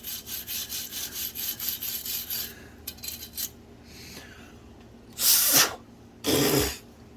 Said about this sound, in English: Air compressor. That's perfect.